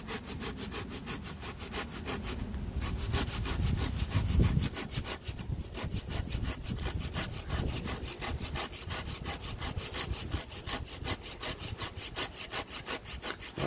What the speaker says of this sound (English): So we're just gonna keep sawing in here.